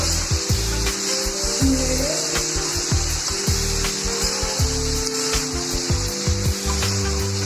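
Cauliflower and potato sabji is stirred in a pan, a steady sizzle under repeated scraping and rubbing strokes of a spatula, close and clear with no speech.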